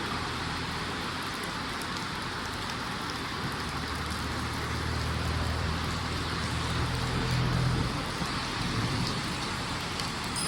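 Heavy rain pours and splashes into an elephant shed, a dense steady hiss of downpour that fills the whole stretch, with a low rumbling swell in the middle.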